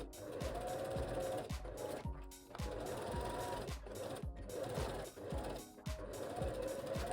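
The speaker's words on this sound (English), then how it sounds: "sew up those seams, and then we can sew up the main top fabric" A sewing machine runs in continuous bursts while stitching the seams of a cowl neck top, with a fast mechanical clatter and brief pauses, faint and alone.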